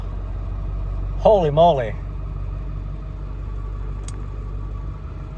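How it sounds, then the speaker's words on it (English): A 2002 Ford F250 truck engine idles steadily after a cold start following three months of sitting, a low continuous rumble running throughout, briefly overlaid by a short spoken exclamation near the start. "3 months the truck sat and she fired right up"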